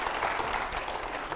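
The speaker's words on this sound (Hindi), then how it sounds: "जोरदार तालियां हो पहले" Audience applause at a Hindi talk event, a steady dense wash of clapping lasting the whole moment with no voices over it.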